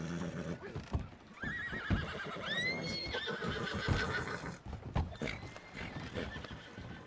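Horses in a video game whinny repeatedly with rising, wavering cries over steady clip-clopping hooves, fairly loud and without talk.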